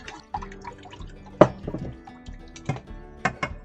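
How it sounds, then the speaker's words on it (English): Blanched squash poured into a strainer gives scattered splashes and drips of water against metal, a few louder splats among quieter trickles, close and intermittent. "I'm going to drain the squash through a strainer"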